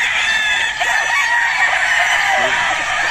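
Game fowl stags crow loudly and close at a game farm, one long strained crow filling the moment with other roosters calling around it; a voice is faintly audible underneath.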